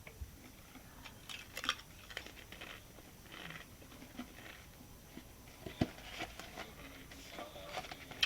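Pringles potato crisps crunched during a taste test, with soft irregular crunches and small clicks of chewing close by, quiet and without talking.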